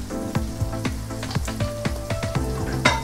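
Onions fry in a pan with a pinch of salt added, a sizzle under repeated rhythmic clacks of a spatula tapping and stirring against the pan.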